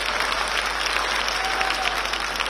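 An audience at a political speech event in Odisha claps steadily and densely for about two and a half seconds, a continuous wash of applause at moderate loudness with no break.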